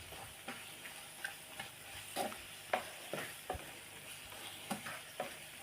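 Chili powder, salt and coriander powder are stirred in a pan for mutton fry, with a series of faint, irregular scraping and tapping strokes over a soft, steady background hiss.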